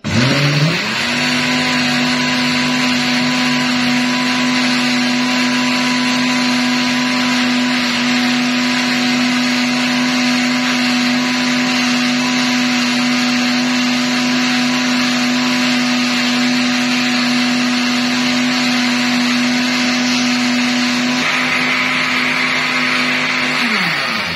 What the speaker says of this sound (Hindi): इसको एक दफा हम फिर ब्लेंड कर लेंगे।